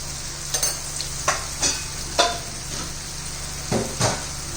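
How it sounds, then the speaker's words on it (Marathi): Spiced mashed eggplant bharit being mixed with masala, salt, turmeric and chili in a pan, a low sizzle broken by a few soft scrapes and taps of a utensil against the pan. "हे व्यवस्थित मिक्स करून घेऊ"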